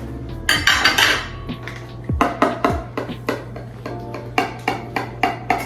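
A small knife cuts a slice of buffalo chicken enchilada casserole in its baking dish. Repeated close clinks, taps and scrapes of metal against the dish come in an uneven rhythm.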